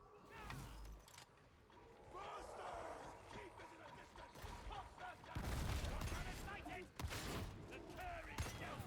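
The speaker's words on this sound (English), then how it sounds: "God, I love these shotguns" Shotgun blasts in the Warhammer 40,000 Darktide game fire amid dense combat noise, with several loud bursts and crowd-like enemy clamor, while someone talks over the action.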